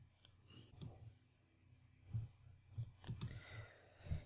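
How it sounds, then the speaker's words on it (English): Computer mouse buttons clicking while setting up Kali Linux in VirtualBox: a few sharp, close, quiet clicks, scattered and then clustered near the end, with no talking. "Just hit on OK for whatever it asks. Don't waste your time reading it. Click on Continue."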